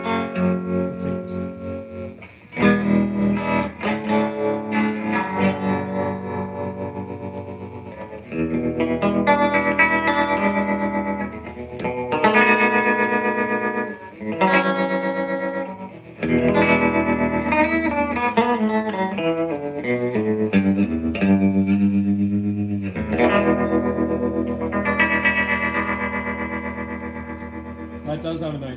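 An electric guitar played through new effects pedals rings out loudly in chords and single notes, washed with chorus, echo and slight distortion, with short pauses between phrases.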